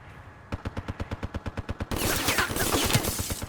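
Rapid automatic gunfire in an arena shooter game, a steady string of about a dozen evenly spaced shots followed by a louder, denser wash of overlapping fire and impacts.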